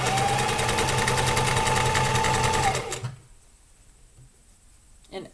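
Sewing machine stitching fabric pieces, a steady fast mechanical whir with a rapid needle rhythm for about three seconds that then stops, leaving near quiet and a brief knock at the end.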